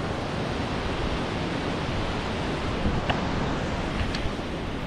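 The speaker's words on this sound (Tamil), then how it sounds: "இந்த தண்ணி தான் சின்னதாக ஃபால்ஸ் அங்கே போயிட்டுருக்கு" Water pouring steadily at Jog Falls, the third highest waterfall in India, heard as a continuous broad roar from a distance with no break across the span.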